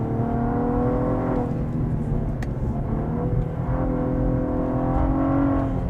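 A Cadillac ATS-V sedan downshifts to second and accelerates, its engine holding a loud, steady drone that dips briefly and then climbs again as it pulls forward, with no talking.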